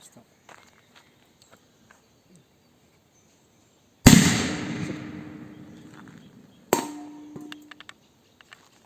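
A sharp bang from a firecracker set off under a pot goes off nearby, then the pot's metallic clatter fades; a second smaller crack and rattle follow a few seconds later after quiet.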